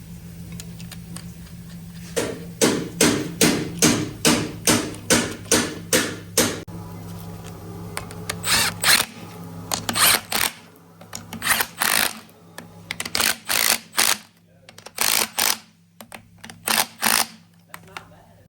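A ratchet wrench clicks as it tightens the stock strut spacer hardware on a 2025 Ford Bronco during a 2-inch Rough Country lift install. Sharp, evenly spaced clicks come in fast rhythmic runs, pausing between sets, close and clear.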